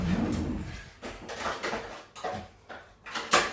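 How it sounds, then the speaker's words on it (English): A fork is grabbed in a home kitchen while a Philly cheesesteak sandwich is made: a few quick clinks and rattles of cutlery and drawer movement, close and brief, with no talking. "I'll grab me a fork."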